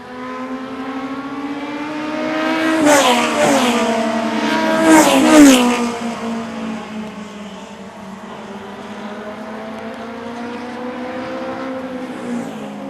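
Race cars lap a short oval in a Super Short Track Racing Series event: loud engines drone steadily, and two cars scream past close by in quick succession with rising and falling pitch.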